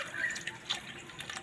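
Cold water poured into a glass of curd, sugar and ice for a lassi, a short splashing trickle with faint drips, close and fairly quiet.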